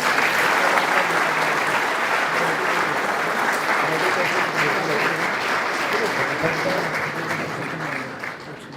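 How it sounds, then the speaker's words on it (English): Audience applause in a conference hall welcoming a speaker to the stage, a dense sustained clapping from a large crowd that gradually fades toward the end. "Let us welcome him with a huge round of applause."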